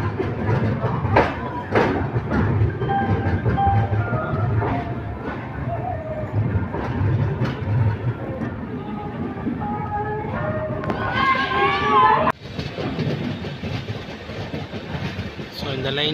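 The Charminar Express rolls into an Indian railway station, with rumbling wheels and rhythmic rail clatter under a busy platform crowd and overlapping voices, plus a sharp clunk near the end.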